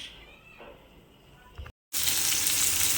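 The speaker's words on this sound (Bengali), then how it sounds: "এখানে আমি করলা ভাজছি, আর করলা ভাজা হচ্ছে" Bitter gourd frying in hot oil, a soft sizzle that cuts out for a moment and then returns as a loud, dense, continuous hiss close to the pan.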